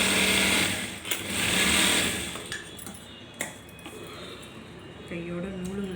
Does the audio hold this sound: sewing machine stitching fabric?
yes